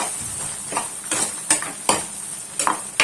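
A spoon stirs prawn curry with chilli powder in a pan, giving repeated scraping clinks against the metal over a soft sizzle, several strokes in quick rhythm.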